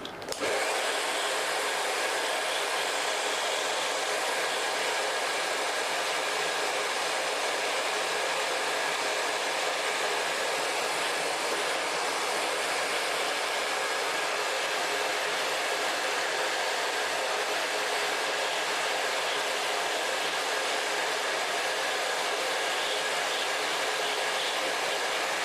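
A blow dryer runs steadily and loudly throughout while curled hair is rolled on a brush and dried, a continuous close whooshing roar with no break and no talk.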